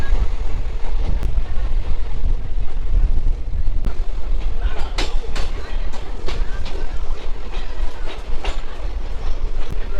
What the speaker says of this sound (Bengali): গুলমা পার করার পরেই গভীর জঙ্গলে ঢুকে গেল আমাদের ট্রেন